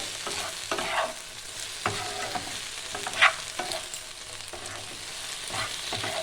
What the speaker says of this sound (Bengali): এবার এইটা ভালো করে 1 মিনিট ধরে ভাজতে হবে।